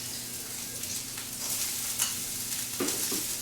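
Onions sizzling as they sauté in a pan for an omelette, a steady crackling hiss close by with occasional stirring scrapes and brief louder spatters.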